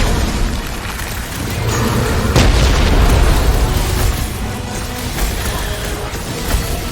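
Bomb explosions in Guardians of the Galaxy, a loud continuous roar of booming blasts and crackling bursts filling the whole stretch, with one sharper burst near the middle and no talk.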